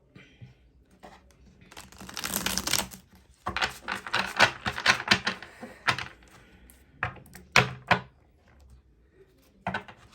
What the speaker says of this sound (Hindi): दूसरे डेक को सफल करते हैं गाइज।